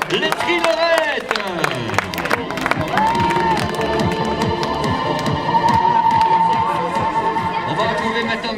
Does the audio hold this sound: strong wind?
no